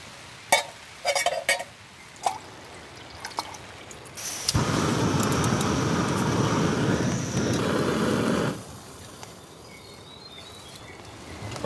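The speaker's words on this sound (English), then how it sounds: "You can probably hear that wind." After a few scattered knocks, a strong gust of wind roars across for about four seconds, then fades back to quiet.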